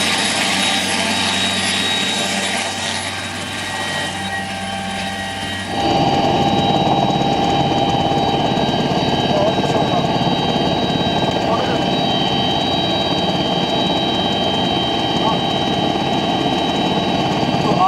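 A helicopter flies over the Siachen Glacier with the Indian Army, a loud steady engine and rotor drone with a high whine, getting louder after a cut partway through.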